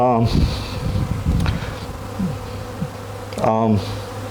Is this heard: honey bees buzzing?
yes